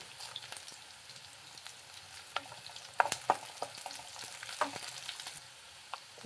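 Dry red chillies and ginger frying in a pan for peanut chutney, a quiet steady sizzle with occasional spoon taps and stirring scrapes, close by.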